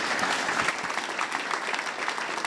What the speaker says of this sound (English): Please give a round of applause to my speakers.